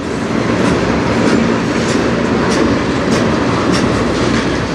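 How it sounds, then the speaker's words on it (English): A CN manifest freight train rolls past close by on the Strathroy line, a loud, continuous roar of wheels and clattering railcars filling the whole stretch without pause. "I don't know what train this is."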